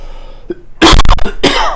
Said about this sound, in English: I'm getting this weird cough.